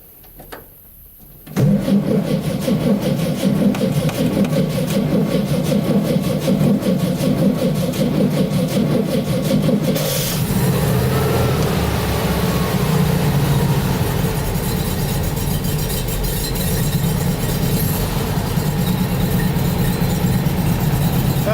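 A 1958 VW Beetle engine with a suspected fuel system problem catches after a short quiet start and then keeps running, a loud, steady, close mechanical drone that holds on with slight shifts in tone.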